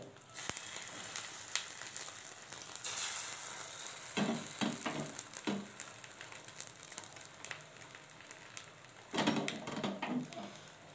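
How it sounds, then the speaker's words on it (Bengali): An egg fries in a pan for egg toast, giving a quiet, crackling sizzle throughout, with intermittent louder pops and spatters. "ডিমটা দিয়ে দেবো কিছুক্ষণ ভাজ ভাজতে হবে"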